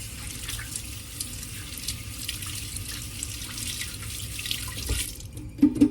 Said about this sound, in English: Okay, so I gotta wash my hands real quick.